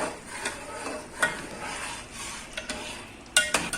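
Suji halwa mixture stirred in a pan over low heat, a soft continuous scraping with faint sizzle and occasional sharper spoon knocks against the metal, close by.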